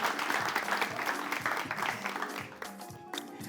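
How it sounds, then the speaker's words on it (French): A live quiz show audience applauds a semifinal contestant, with dense, close clapping that rings out strongly and then thins slightly toward the end. "Applaudissements pour Divin aussi quand même."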